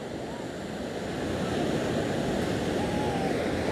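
Continuous surf washes ashore at the Tramandaí seafront beach, a steady broad rush of breaking waves that swells slightly louder partway through, with wind noise on the microphone and no talk.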